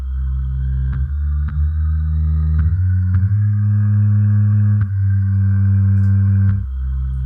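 Distorted bass built entirely from sampled voices and pushed through a Darkglass Ultra drive plugin plays a low sustained line, shifting notes every second or so, with a gritty driven edge and no talking.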